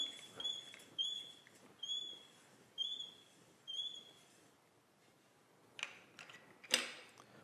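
A hand crank turns to raise the body of an OF 2200 router on a compact module system. It gives five quiet, evenly spaced mechanical ticks and creaks about a second apart, followed by a couple of faint clunks.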